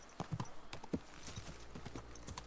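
Quiet, irregular video-game horse hoofbeats clip-clopping on a hard surface, a horse moving at an easy pace against a faint hiss, with no talking.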